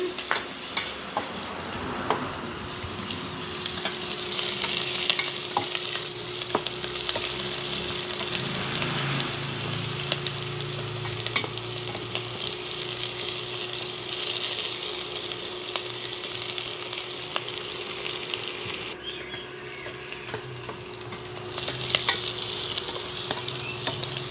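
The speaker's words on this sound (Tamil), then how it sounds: "கருவேப்பிள்ளை இதெல்லாம் போட்டு இப்போ நல்லா பொன்னிறமாக வறுத்து எடுக்கணும்" Curry leaves, green chilies and spices sizzle steadily in hot oil in a pan for fish curry, a continuous close frying hiss with occasional stirring scrapes throughout and no talking.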